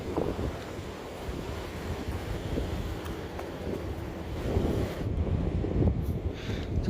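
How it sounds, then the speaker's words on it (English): Steady wind buffets a microphone outdoors on a beach, a continuous low rumbling roar with gusts swelling slightly louder toward the end. "it's pretty windy on the beach"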